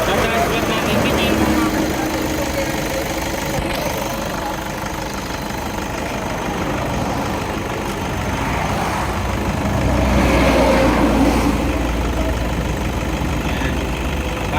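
A Toyota Innova broken down on the NLEX roadside idles with a steady, rough engine drone, while people talk throughout and passing traffic swells briefly.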